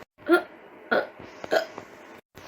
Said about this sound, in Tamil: வயிற்றுல கேஸ் ஃபார்ம் ஆயிடுச்சு போல் ஒரே விக்கல் எடுக்குது